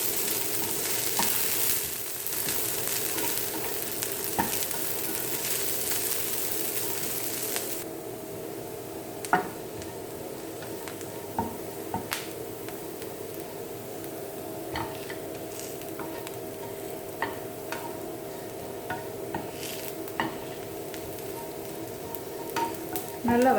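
Adamant creeper (pirandai) frying in oil in an aluminium pan, a steady close sizzle broken by the occasional clink and scrape of stirring.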